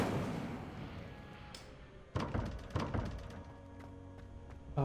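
An Incendio fire spell cast in the video game Hogwarts Legacy: a low rumbling whoosh drops out, then a sharp burst hits followed by several crackling thumps and impacts that decay over a few seconds, with no talking.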